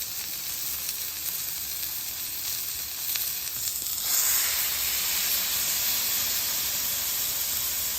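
Thin-sliced onions sizzling on a hot griddle for an Oklahoma fried onion burger, a constant hissing fry that swells noticeably louder partway through and holds steady to the end.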